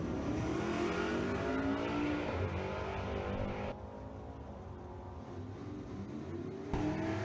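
Drag racing cars, one a Camaro, rev hard and launch side by side, their engines screaming loud and close, then dropping off abruptly as they pull away before another engine surges back in.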